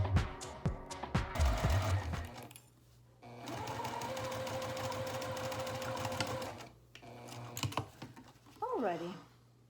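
A sewing machine stitching vinyl runs in bursts: a short rattling start, then a long steady mechanical whirr with rapid needle ticking, stopping and briefly restarting, close and clear with no voices.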